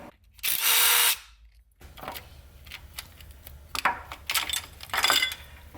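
A power tool spins briefly in one loud burst to back out 10mm timing cover bolts on a turbo Escalade engine, followed by light clinks and metallic clatter of bolts being handled.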